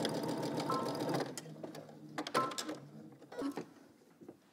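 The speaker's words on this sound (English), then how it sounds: "now we're going to stitch this together using 5/8 of an inch seam allowance" A sewing machine stitches a 5/8-inch seam on a sewn top with a close, rapid mechanical whir for just over a second. Softer clunks and handling noises follow as the fabric is adjusted.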